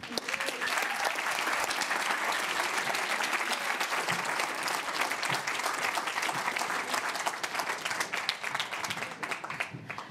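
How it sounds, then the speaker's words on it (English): Sustained audience applause at a women and technology pitch session, a dense wash of clapping holding steady throughout and easing slightly near the end. "a big, big applause for you"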